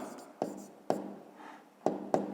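Pen strokes writing an answer by hand on paper in a maths exercise, a few distinct taps and short scratches spaced unevenly, close and moderately quiet.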